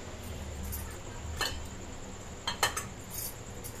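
Metal pot clinks and clatters as a pot of rice is set on a kitchen stove to boil, a few sharp close knocks over quiet background hum.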